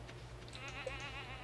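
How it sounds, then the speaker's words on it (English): A goat on a Stardew Valley farm gives a short, quiet wavering bleat, faint and brief against a low steady background hum. "I like Gabby the goat"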